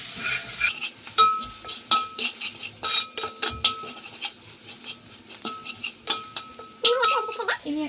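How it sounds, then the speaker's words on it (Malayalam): Spoon scraping and clinking against a pot while biryani masala is stirred and mixed, rhythmic close stirring strokes with faint sizzling underneath; a voice is heard at times. "ഇത് നന്നായിട്ടൊന്ന് ഇളക്കി യോജിപ്പിച്ച് കൊടുക്കാം."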